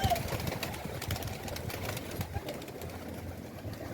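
Pigeons coo softly amid a noisy loft, low murmuring calls repeating under faint background sounds and occasional wing flutters.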